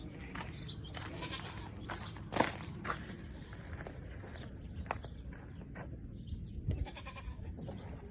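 Goats in a farm pen near a chicken coop, heard as a few soft, scattered bleats and shuffling movement against a steady, low background of outdoor noise.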